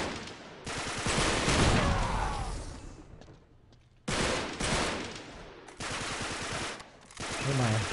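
AK assault rifle fire in Uncharted 3, loud sustained automatic bursts in several long volleys separated by brief pauses.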